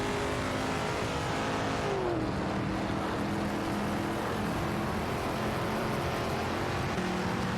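Video game race cars, a Dodge Charger Super Bee and a Porsche 911 RS 2.7, roar together in a tight fight for position. There is a loud, steady engine drone with pitch shifts as they shift gears, and no talking.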